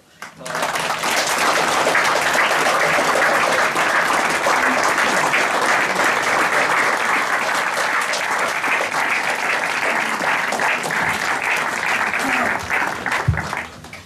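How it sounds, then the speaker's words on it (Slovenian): A crowd applauds a newly ordained priest at a welcome outside a church, a dense, sustained clapping that swells in quickly and holds steady for about thirteen seconds before tapering off. "pa dajmo še en aplavz za našega Petra Novomašnika"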